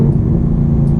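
Chevrolet Camaro ZL1 1LE with a 10-speed gearbox growls with a steady, loud engine rumble inside the cabin as it downshifts into third, a brief continuous burst with no talking over it.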